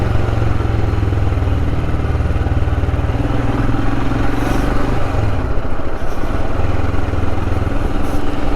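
Royal Enfield Himalayan motorcycle riding along a road, a steady loud engine drone mixed with wind rumble, continuous and close throughout.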